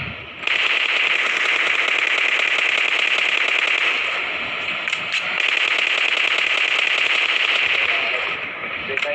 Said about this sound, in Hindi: चलती गाड़ी से गोली चलाने की पूरी तैयारी है अभी।